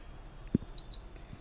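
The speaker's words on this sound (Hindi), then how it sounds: "बजर साउंड भी आई है" An induction cooktop on a repair bench gives a single short, clear buzzer beep after a faint click, with a quiet room behind it.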